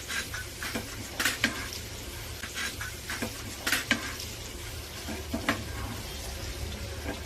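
Butter and fennel seeds frying in a pan give a faint, steady sizzle broken by soft crackles and a few sharper pops, with no one talking.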